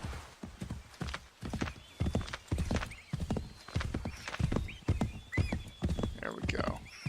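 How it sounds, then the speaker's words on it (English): Horse hooves clip-clopping at a steady gallop up a hill in the video game Assassin's Creed 3, the rhythmic beats mixed with occasional whinnies and someone talking over them. "I don't know how the horse is running up this hill"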